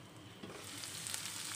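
Okra (bhindi) frying gently over a low flame, giving a soft, steady sizzle that holds evenly throughout with faint crackles on top, with no one talking.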